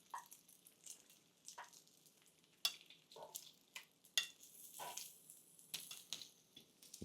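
Bacon frying in a pan, heard as a faint, uneven sizzle with soft crackles and a few sharper pops and scrapes spread across the clip, quiet and close, with no speech.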